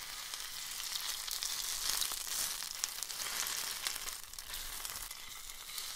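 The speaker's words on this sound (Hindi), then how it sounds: "हमें हल्के हाथों से मिक्स करना है ताकि चावल हमारे टूटे ना।" Chicken fried rice with egg sizzles steadily in a hot pan as it is gently stirred, a continuous bright frying hiss with faint scraping, no voices over it.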